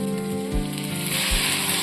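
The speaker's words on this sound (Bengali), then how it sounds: "এবার দিয়ে দেবো বেটে রাখা মশলাটা।" A ground spice paste fries in a pan of oil after browned onions, giving a loud, continuous close-up sizzle that grows brighter and hissier toward the end, with a couple of dull low knocks underneath.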